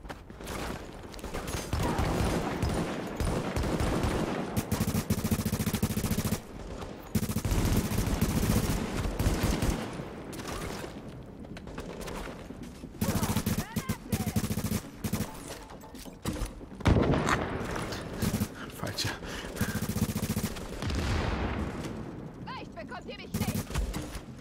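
Repeated bursts of gunfire in the video game The Division, including rapid automatic fire, crackle loudly and almost continuously, with short pauses between volleys.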